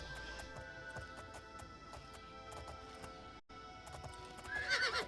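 A horse in the Oblivion video game neighs and its hooves clip-clop in a quick, regular rhythm, fairly faint, ending in a brighter whinny near the close.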